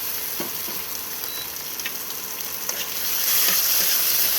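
Chopped tomato hits a hot pan of ginger paste and chilli, setting off a close, hissing sizzle with light stirring scrapes that grows louder toward the end, with no voices.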